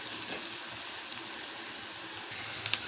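Ginger pickle bubbling in a generous amount of hot oil, a faint, steady crackling hiss like light rain, with a single sharper pop near the end.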